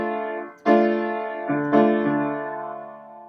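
Solo piano plays one measure of a song as a few sustained chords struck in sequence, each attack ringing out and decaying, with no voices over it.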